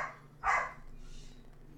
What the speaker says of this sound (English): I'm sure you can hear my puppies upstairs barking